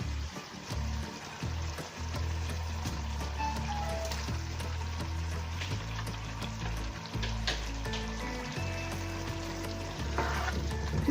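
Paneer going into sizzling matar paneer gravy in a pan and being stirred, a close, steady crackle with scraping stir strokes throughout and no talk.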